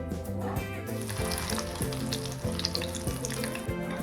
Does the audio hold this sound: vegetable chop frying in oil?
yes